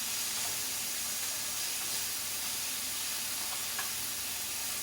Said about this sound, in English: you would just keep on stir frying